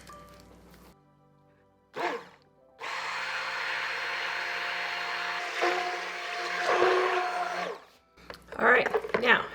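An electric mixer blends soap batter containing goat milk powder for homemade soap, a steady loud whirring drone running several seconds with slight pitch shifts, starting and stopping with brief sounds around it.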